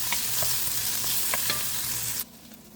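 Garlic frying in hot oil in a pan for Filipino pancit, a steady close sizzle with light stirring clicks, cutting off abruptly near the end.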